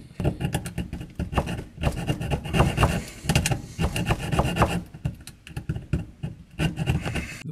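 A hacksaw rasps back and forth through copper pipe in uneven bursts of scraping strokes, close up, with brief pauses between runs of cutting.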